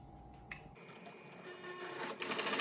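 A sewing machine top-stitches the edge of a fabric medical cap seam, giving a brief quiet start followed by a building mechanical whir that grows louder and busier, with no talking.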